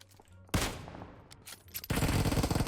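Gunfire in the PUBG Mobile battle royale game: sharp loud bursts of shots, a burst near the start and a dense rapid volley toward the end, with quieter reports between.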